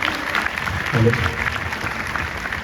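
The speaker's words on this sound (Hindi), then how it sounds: "प्लीज इनके लिए तालियां हो जाए" A retreat audience claps for two guests, a steady dense round of applause throughout with a brief voice rising briefly above it.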